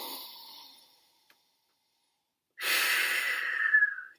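A slow, deep breath: a soft inhale through the nose is heard first, then a pause of silence, then a louder, longer exhale out through the mouth. Both are close and alone, with no talk over them.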